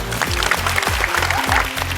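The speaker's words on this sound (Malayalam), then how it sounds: "എല്ലാരും വലിയൊരു കൈയടി കൊടുത്തേ" A TV show audience applauds at a game show, a dense wash of clapping. Music with a steady beat plays underneath.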